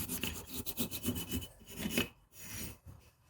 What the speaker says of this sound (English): you want to clean out any old gasket that's there